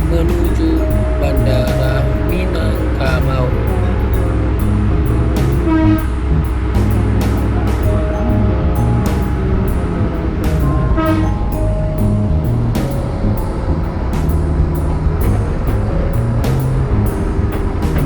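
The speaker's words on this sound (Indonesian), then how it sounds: "Dan keretanya sudah mulai berangkat dari stasiun Simpang Haru." The Minangkabau Express train pulls out of Simpang Haru station, a loud low rumble of wheels and engine with rhythmic clacks and brief tonal squeals over steady onboard noise.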